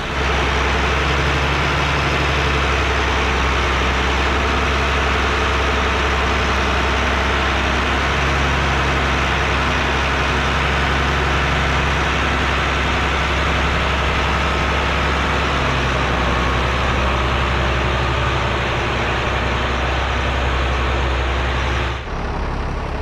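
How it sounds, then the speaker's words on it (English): A heavy tractor engine idles with a continuous low diesel rumble, loud and near, running steadily for a long stretch before shifting near the end as the tractor backs out. "Now I need to unhook the hydraulics, back the tractor out"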